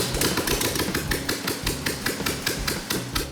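A turnkey engine fitted in a custom Mini-Kit van runs steadily at idle, close by and loud, with a rapid repeating mechanical tapping throughout.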